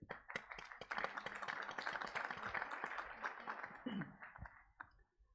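Scattered clapping from a small group at an ILO regional labour conference, uneven and moderately quiet, thinning out and fading toward the end.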